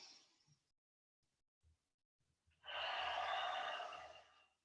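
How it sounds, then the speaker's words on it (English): Slow breathing during a Shaolin-style breathing exercise: one long, audible breath swells up around the midpoint and lasts nearly two seconds before fading, preceded by a faint short breath and a few quiet soft sounds, with no talk. "inhale up, and exhale down"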